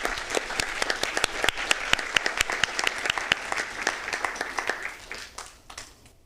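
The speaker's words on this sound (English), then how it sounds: "Let's give him a round of applause." A small audience at a city council meeting claps for a councilmember, with distinct individual claps audible at close range, steady at first and then thinning and fading out toward the end.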